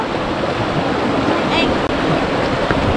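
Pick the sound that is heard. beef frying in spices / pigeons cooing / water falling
water falling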